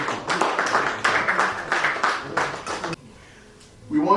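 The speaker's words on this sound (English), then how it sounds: "Another round of applause." Applause at an investiture ceremony in the UK, a crowd clapping loudly and steadily for about three seconds before breaking off into near silence, with faint voices resuming at the end.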